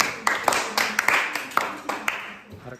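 Students in a classroom clap together in a brief round of applause, with several sharp, uneven claps over a few seconds and no talk.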